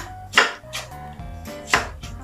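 A knife chops shallots on a board in a few uneven strokes, two sharper thuds standing out over a background hum.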